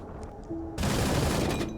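Soviet T-34 tank main gun fired in the video game Gates of Hell: Ostfront, a single sudden loud blast that cuts in sharply and rumbles on for about a second.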